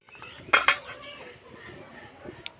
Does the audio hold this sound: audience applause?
no